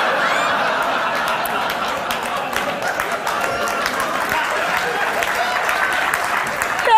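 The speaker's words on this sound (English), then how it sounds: "you can clap at that" A theatre audience at a storytelling talk breaking into loud, sustained applause mixed with scattered chuckles and laughter, filling the hall for several seconds.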